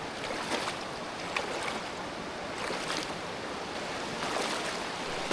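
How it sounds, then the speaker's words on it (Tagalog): Strong river current rushing near a riverside campsite, a steady loud broadband wash with surging swells, no voices over it. "Malakas ang agos."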